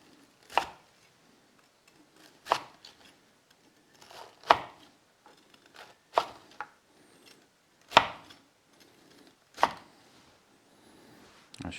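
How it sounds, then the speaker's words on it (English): A knife cuts through a fried pork tonkatsu cutlet in six sharp, evenly spaced chops against a board, each crisp and close with quiet pauses between. "Now I'm going to cut it up."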